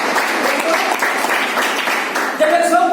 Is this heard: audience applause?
yes